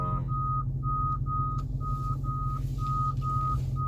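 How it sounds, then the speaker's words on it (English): Regular electronic reversing beeps from a Dodge Charger backing up, about nine evenly spaced tones over a steady low engine hum, clear and close. "I'm backing up"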